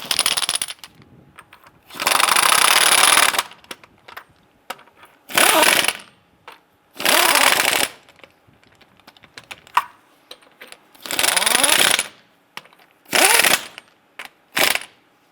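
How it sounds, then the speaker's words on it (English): A power tool snugging down lug nuts on a 2002-2008 Dodge Ram 1500, a series of short loud whirring bursts a couple of seconds each, separated by quiet gaps. "Once we have all these on, I'm going to go ahead and snug them down."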